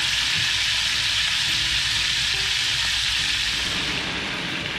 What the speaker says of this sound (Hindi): फ्राई होगा अच्छी तरीके से, और ये शेलो फ्राई है, डीप फ्राई नहीं है।